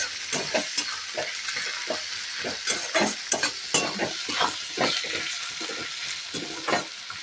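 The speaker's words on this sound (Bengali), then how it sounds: "এবার আমি ভালো করে নেড়ে চেড়ে একটু ভেজে নেব" Onion and tomato being stirred and fried in a pan, with irregular scraping strokes of the spoon over a steady close sizzle, no voices.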